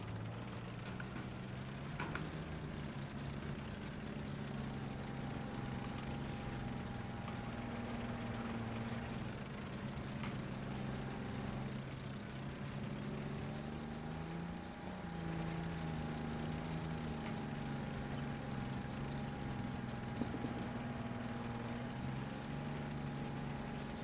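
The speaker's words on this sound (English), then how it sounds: "Oh yeah, there is a new engine sound." A vehicle engine in the Ixwa Strike video game drones steadily at low volume, a constant mechanical hum with a faint whine held throughout and no voices.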